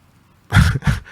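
Two quick, harsh coughs close to the listener, one right after the other, with nothing before them but quiet.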